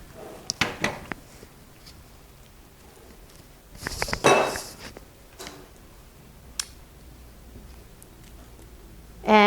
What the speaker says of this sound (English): we're going to stir that in as well.